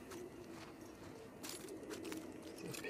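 Pigeons cooing in The Last of Us Part II, soft repeated low coos under a steady bed of game ambience, with a few faint chirpy bird calls, moderately quiet and without talk.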